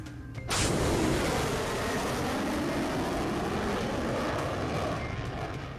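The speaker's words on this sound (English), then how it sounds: "That's the sound of a sonic boom" A sharp sonic boom from an F-22 jet breaking the sound barrier, followed by a loud, sustained roar of jet noise that rumbles on and slowly fades.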